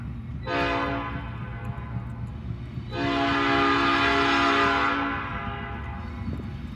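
Canadian Pacific AC4400 locomotive leading a freight train sounds its horn in two long blasts, the second longer, loud and fairly close over a low rumble of the moving train.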